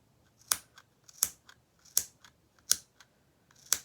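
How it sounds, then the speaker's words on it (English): Five crisp, evenly spaced snips cut from the middle of the blades as they trim the fabric of a doll's wool coat, quiet and close with near silence between cuts. "I do put the blades of the snips in the middle just to try and take off a little bit extra"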